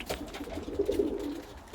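Pigeons on a perch coo in low, throaty murmurs while squabbling over spots, a close, soft burble of overlapping calls with no other sound.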